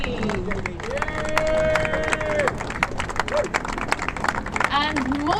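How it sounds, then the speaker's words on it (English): A crowd claps and cheers at the podium of a historic motor racing festival at Donington. The steady applause carries under a loud announcer's voice over a PA, with background babble. "Please keep the round of applause going for number 59"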